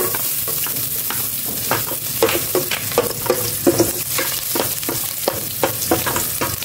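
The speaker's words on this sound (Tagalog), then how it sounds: "Nakaprepare na po itong kasirola kong may mantika. Mainit na. Magisa na ako ng bawang." Garlic sautéing in hot oil in a pot, a continuous sizzle broken by frequent rhythmic scraping and clacking of a spatula against the metal, fairly loud and close.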